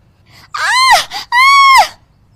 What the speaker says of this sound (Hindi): उसके पल्लू में आग लग जाती है और वो जोर जोर से चिल्लाने लगती है